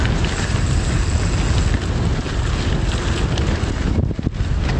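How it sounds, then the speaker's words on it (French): Strong, steady wind buffets the microphone on a gravel bike ride through mountainous terrain toward the Morvan, with a loud, roaring rumble that continues throughout, with no voices. "Ah, il y a un vent de bâtard."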